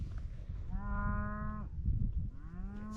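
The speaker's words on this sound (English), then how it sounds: "Got a bunch of cows out here." Cows low on the open range in Wyoming, two long clear moos close by, the second answering the first, over a soft outdoor rumble.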